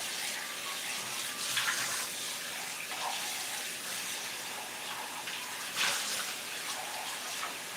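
Tap water runs steadily into a container being rinsed in a kitchen sink, a loud, continuous close-up gush with brief splashy surges as the container shifts under the stream.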